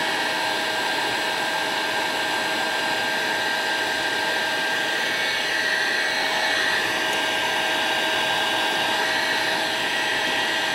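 A heat gun blows steadily and loudly at close range while vinyl stripe graphics are peeled from a 1993 Chevrolet pace truck, a constant airy whine with no pauses and no voices.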